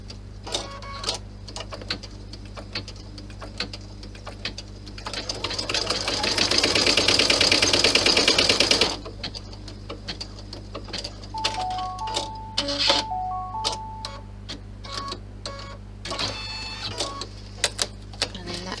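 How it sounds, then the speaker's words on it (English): Sewing machine stitching down a seam on a clutch bag, a steady mechanical run of about four seconds in the middle, with quieter handling clicks and soft tones before and after. "lower the needle into your stitch line and sew down"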